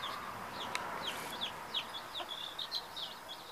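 Hawaiian jungle fowl cluck and peep in short repeated calls over a hushed outdoor background, with several soft clucks spaced irregularly and one or two brief brighter chirps nearby.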